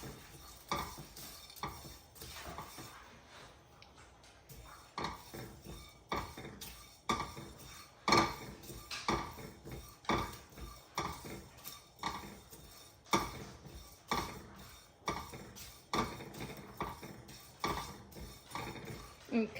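Whole spices for pav bhaji masala being dry-roasted and stirred in a pan, with repeated scraping and clinking of a utensil against the metal at a steady rhythm under a faint background.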